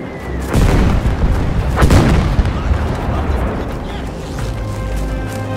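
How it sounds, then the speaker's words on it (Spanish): Battlefield 5 Second World War combat brings two heavy, loud explosion booms in quick succession, each trailing into rumbling debris, with scattered crackling gunfire and a lingering low roar afterward. "unos efectos contundentes y muy realistas en las explosiones y los disparos"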